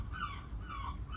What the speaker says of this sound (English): can you hear that seagull?